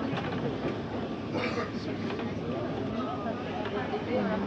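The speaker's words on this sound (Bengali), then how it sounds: "আমাদের ট্রেনটি এখন চলতে শুরু করছে" Rumbling, rattling noise of a passenger train pulling out of Jaipur station, steady and close, with voices murmuring over it.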